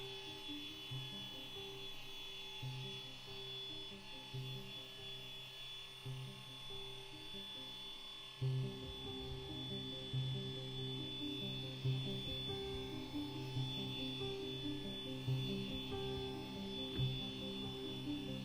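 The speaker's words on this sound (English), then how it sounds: "We're going to be on a low speed setting, just 1" A polisher runs at low speed, buffing marine isinglass and Strata Glass plastic with Novus polish, giving a faint, steady motor whir with a thin high tone and soft rubbing pulses that grow slightly louder partway through.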